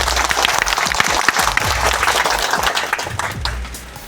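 Loud applause from an audience welcoming a block official at a farewell and felicitation ceremony in Kusheshwar Asthan, thick continuous clapping with some low thumps, tapering off near the end.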